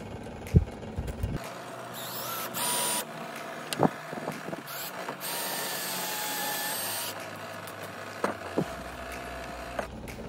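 A power drill whirs in several bursts, drilling towel hooks into place, its motor whining up and down between short pauses, with occasional clicks and clatter close by.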